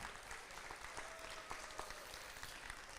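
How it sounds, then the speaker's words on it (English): Faint applause from a market hog show audience at the State Fair of Virginia, a steady patter of many hands lasting about three seconds, distant and low in level with no talk over it. "let's give your novice top 10 a nice round of applause."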